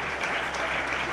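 Brief burst of dense clapping from a gala audience honouring Andalusian Spanish champions, loud and even throughout.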